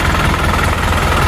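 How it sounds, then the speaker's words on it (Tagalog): An Isuzu NPR Giga dump truck with a 4HE1 Turbomaxx diesel engine running, a loud, close, steady knocking rumble with no voices. "Napakalakas na makina na ito dahil Turbo Max ito."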